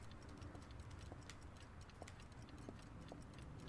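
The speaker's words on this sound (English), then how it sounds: "All these clocks are giving me a headache." Faint, steady ticking of clocks in the video game Heavy Rain, a regular repeating tick over a low background hum with no one speaking.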